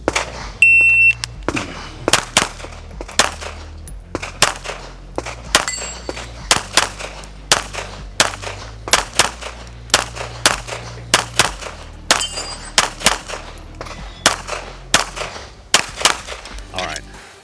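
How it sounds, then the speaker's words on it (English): Pistol practice rounds with a Gibson Custom firing in about two dozen sharp, loud shots at a steady pace, some in quick pairs, with short pauses between them and a brief electronic beep at the start. "We're just kind of shooting what we can get our hands on."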